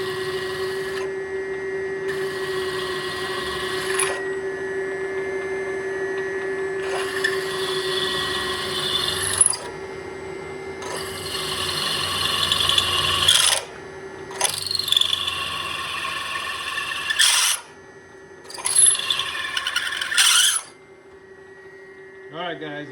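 A drill bit in a chuck grinds and screeches into metal with no cutting fluid, in harsh bursts of several seconds separated by short pauses, loud and close over a steady motor hum.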